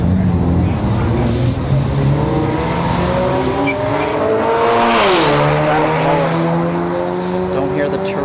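A BMW 5 or 4 Series and a Ford Mustang S550 with a large front-mount intercooler launch down a drag strip at a street-racing event, engines roaring loud and near, pitch rising through gear changes, with tire squeal under it.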